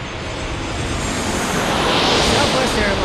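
An airliner arriving at San Diego airport roars loudly and close, a broad rushing jet noise that builds steadily over a few seconds.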